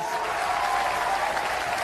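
A Robot Wars studio audience gives a dense, steady round of applause, a continuous wash of many hands clapping together with no pauses.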